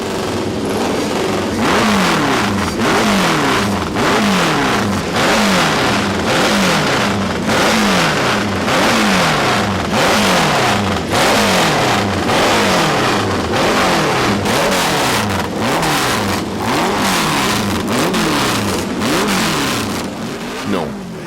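Several vintage racing motorcycle engines at the Isle of Man Tourist Trophy roar loudly and continuously, revving up and down in repeated cycles as they pass, with a crowd or voices faintly underneath.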